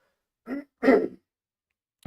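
A person clears their throat twice in quick succession, a short rasp followed by a longer, louder one, close and alone in otherwise quiet surroundings.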